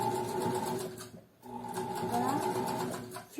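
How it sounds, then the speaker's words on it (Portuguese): A sewing machine runs a temporary tacking seam along a fabric edge, a close, steady rapid whirring with a brief pause midway, while a voice talks over it. "Então, por isso que eu faço a costura de firmado bem na beirinha"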